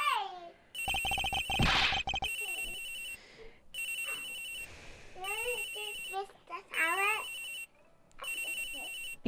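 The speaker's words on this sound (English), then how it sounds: "This has got to be the victim's cell phone." A victim's cell phone rings in a VTuber detective game, its electronic ringtone repeating in loud bursts with short gaps and voice-like sounds between them.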